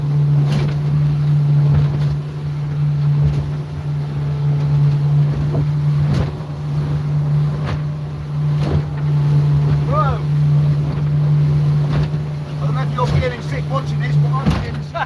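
A motorboat runs at about 18 knots through lumpy water, its engine a loud, steady drone throughout with wind buffeting the microphone and occasional water thumps; brief voices and chirps surface near the end.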